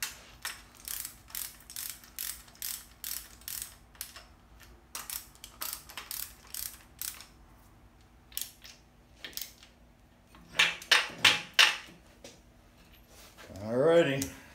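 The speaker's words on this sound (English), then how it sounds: "Make sure your crank moves back and forth" Crankshaft being shifted back and forth inside an assembled 1600 engine short block, giving rapid clicking, knocking metallic taps in uneven bursts, close and fairly quiet, with a short voice near the end.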